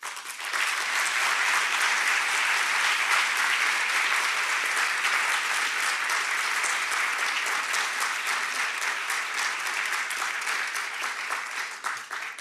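Sustained audience applause at a legal development conference, dense and loud clapping that holds steady for over ten seconds before tapering slightly at the end.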